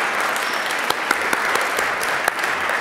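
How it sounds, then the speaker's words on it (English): Steady crowd applause from an audience at a talk show event, a dense continuous clapping wash with a few sharper claps popping through, no speech on top. "Please give them a round of applause before we see them on stage."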